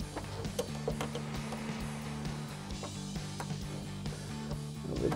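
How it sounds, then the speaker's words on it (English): A 19 mm ratcheting wrench tightens the top mounting nut of a 1994-2004 Mustang coil-over, giving a steady run of quick, close clicks over a faint mechanical hum. "get our top mounting nut tightened down using our 19 millimeter ratcheting wrench"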